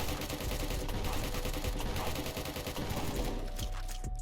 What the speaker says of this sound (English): I probably have a lot of clips where I'm just freaking spamming the shotgun like this